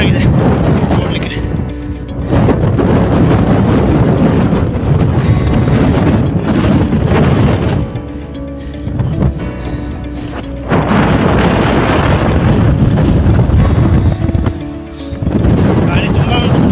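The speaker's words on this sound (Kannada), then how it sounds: "ಗಾಳಿ ತುಂಬ ಉಂಟು." Strong wind blasts across a hilltop on a trek to Channarayana Durga, a loud, roaring rush that pounds the microphone almost without pause and eases only briefly twice.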